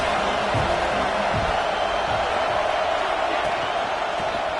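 A stadium crowd in an NCAA college football video game roars in a dense, continuous wash of cheering, steady and loud, with play-by-play commentary faintly underneath.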